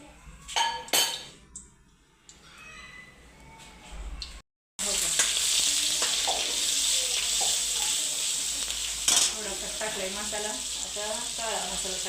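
Masala frying in hot oil in a home kitchen pan for a mutton thali, a steady loud sizzle with scattered clinks of a utensil, after a brief quieter stretch with a short pause.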